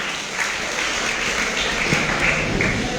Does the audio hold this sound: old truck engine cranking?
no